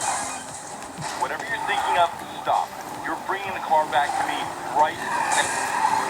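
Cars skidding and tires squealing during a police chase through city streets in Need for Speed Payback, repeated screeches over engine roar, with someone talking excitedly over it.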